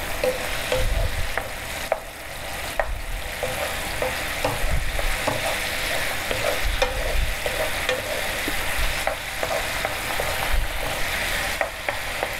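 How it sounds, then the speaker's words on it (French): Sauce for a Korean fried shrimp dish (kkanshoh saeu) bubbling and sizzling steadily in a pan, with a continuous frying crackle and occasional stirring scrapes, close and fairly loud, no talking. "quand ça devient en ébullition comme ça"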